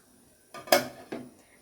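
A lid clatters onto a pot of boiling pasta, a close metallic clank followed by a lighter second knock as it settles, over a quiet kitchen background.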